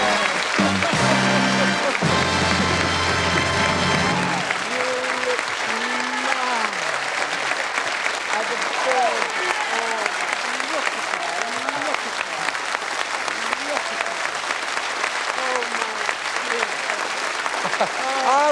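A television studio audience applauds at length, loud sustained clapping from a large crowd, with a brief bit of music and a voice at the start.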